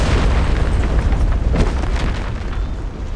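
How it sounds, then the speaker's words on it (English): A bomb strikes a ship in the game Reverse 1999, a loud, sustained rumbling boom that fills the whole moment and slowly fades. "Another bomb hits the ship."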